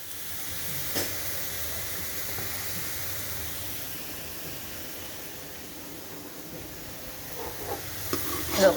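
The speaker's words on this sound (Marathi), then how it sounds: "का हा परतला गेला आपला कांदा." Onion sautéing lightly in a pan for mushroom biryani gives a soft, steady sizzle, fairly quiet and close. A few scraping stirs stand out, including a sharper burst at the very end.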